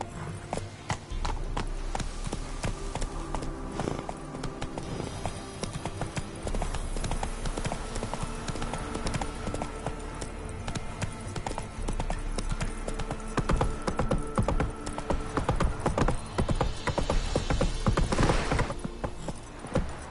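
Roach, a horse in The Witcher 3, gallops in a steady, loud clip-clop of hooves that runs the whole time, with faint game sounds behind and a possible brief neigh.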